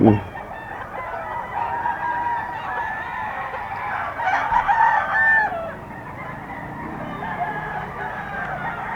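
Hatch Gray and Golden Boy fighting roosters at a market stall: a crowing rooster and clucking fowl sound close, with a brief louder call midway over a busy background.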